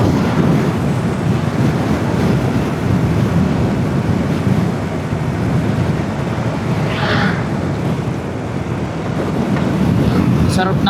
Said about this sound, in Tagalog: Sarap ng hangin mga amay.